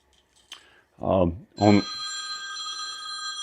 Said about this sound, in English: And there's the phone. You got to answer it.